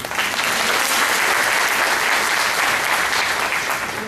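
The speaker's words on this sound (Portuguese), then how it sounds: "Vamos aplaudir o Senhor Jesus pela vida da nossa irmã." A church congregation applauds during a birthday service, dense, loud and continuous clapping filling the space from start to finish.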